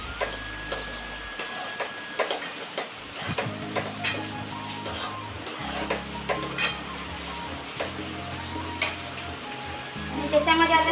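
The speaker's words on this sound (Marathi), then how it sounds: "आपण जे तळून घेतलेले ड्रायफ्रुट्स होते ते टाकायचे आणि मिक्स" Fried dry fruits are stirred into jackfruit semolina sheera in a pan, making repeated scraping and clinking stirs over a soft sizzle. The sounds are close and continuous, with faint background noise and no speech.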